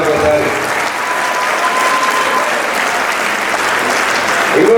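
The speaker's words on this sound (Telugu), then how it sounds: "ఒకసారి బలంగా క్లాప్ చేయాలి" Loud, sustained applause from a large crowd at a junior college farewell celebration in Madanapalli fills the whole stretch, a dense steady clapping with a swell near the end.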